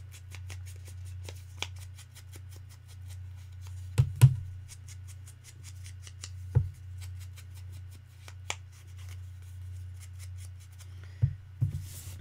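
Scissors cut through card stock paper at a cardmaking table, making a series of small, crisp snips spread across the stretch. A few louder clicks and rustles stand out over a steady low electrical hum.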